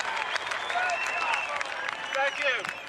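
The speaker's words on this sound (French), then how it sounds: "On applaudit tous David Icke" A crowd applauds David Icke at a large public gathering, with dense, steady clapping throughout and cheers and shouts rising over it.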